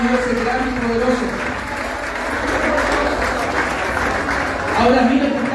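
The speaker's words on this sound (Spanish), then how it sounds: "Den un aplauso al Señor." Church congregation applauding together, a steady dense wash of clapping close by, with voices mixed in and the applause swelling again near the end.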